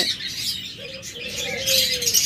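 Paired pet lovebirds, cockatiels and parakeets kept for sale as breeding pairs chirp and call alone, bright high tweets overlapping with one longer clear whistle near the middle.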